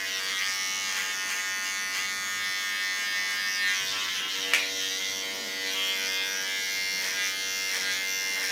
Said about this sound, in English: On the sideburn, take a small clipper.